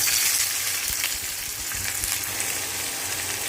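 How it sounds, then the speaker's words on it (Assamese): Onions sizzling in hot oil with cumin seeds and dried red chillies, a steady loud frying hiss with small crackles throughout, no talking. "পিঁয়াজখিনি মই ৰঙচুৱা হোৱাকৈ ফ্ৰাই কৰিম"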